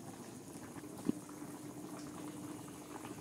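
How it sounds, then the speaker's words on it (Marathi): A pot of rassi vadi curry, with gram-flour dumplings in a thin spicy gravy, bubbles at a low simmer, a faint steady burble with one brief louder pop and no voices. "बघा कशी भाजी आपली गदा गदा उकळत आहे"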